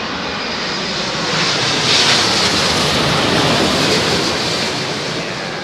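An Air Canada Boeing 787 landing at Heathrow in high winds gives a loud, broad rushing roar of engine and airflow that swells in the middle and eases off toward the end, with no voices.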